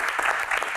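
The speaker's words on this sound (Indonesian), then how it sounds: "Tepuk tangan dulu." A brief burst of applause from a group, clapping close and loud.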